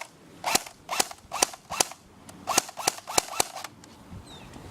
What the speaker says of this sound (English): Shoot at the ground.